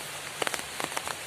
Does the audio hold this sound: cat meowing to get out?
no